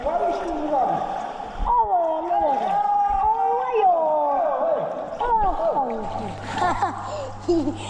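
A person dives into water with a couple of sharp splashes, while several people talk and exclaim loudly throughout.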